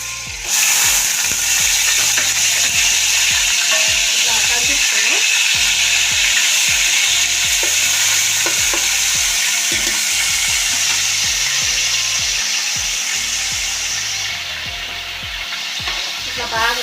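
Onion paste fried in a pan with cinnamon, cloves and cardamom for an Andhra-style fish curry, giving a loud, continuous sizzle broken by repeated scraping stirs from a spatula, close up throughout.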